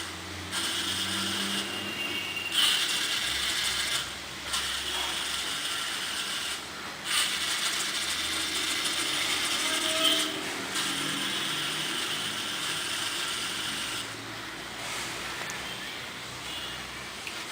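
A small Arduino-based Bluetooth robot vehicle runs with its wheels turning, giving a continuous close whirring, ratcheting gear-motor drone that briefly dips and changes pitch several times.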